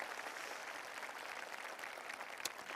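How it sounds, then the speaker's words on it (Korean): An audience at a Seongnam city-hosted talk concert applauds city hall officials with a dense, even roar of many hands, faint and distant, sustained without a break. "우리 성남시청 공무원분들에게도 박수 부탁드리겠습니다."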